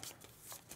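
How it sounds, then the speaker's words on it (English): A deck of cards is shuffled during a tabletop board game, giving a quiet, brief riffling flutter in a couple of quick bursts. "Let's shuffle this up real quick."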